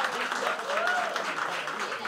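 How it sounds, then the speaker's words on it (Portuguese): A round of applause greets an arriving guest at a jongo and folia gathering, a steady wash of clapping with a voice speaking over it. "A salva de palmas aí pro nosso irmão Delcio que tá chegando no nosso território."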